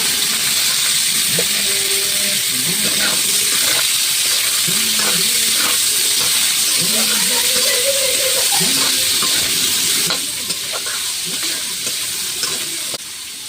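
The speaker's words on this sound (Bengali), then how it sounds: "এই যে সর সিদ্ধ করে রেখেছিলাম, এটা এখন এর মধ্যে দিয়ে দেবো। এসবটা আমি কষিয়ে নেব" Boiled cream and young jackfruit are sautéed in hot oil for a cashew-poppy-seed curry, giving a loud, constant sizzling hiss with repeated scraping stir strokes against the pan.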